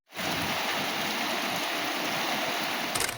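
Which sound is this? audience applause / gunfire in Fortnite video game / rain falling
rain falling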